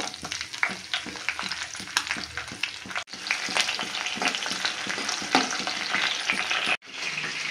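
Cumin seeds and green chillies frying in hot oil, a dense continuous crackling sizzle with rapid spattering pops and occasional stirring, close and steady, with two brief dropouts.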